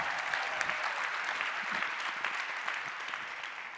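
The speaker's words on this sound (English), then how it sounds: "Big round of applause for Zoltan." A business-event audience applauds Zoltan with steady, moderately loud clapping throughout, a dense even patter of many hands with no talking over it.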